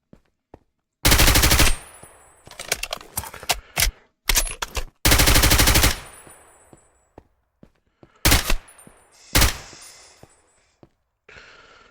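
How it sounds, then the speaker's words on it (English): A carbine from a Minecraft gun mod fires in sharp, loud bursts of rapid automatic shots and scattered single cracks, with gaps of near silence between volleys. "This especially goes well with the carbine."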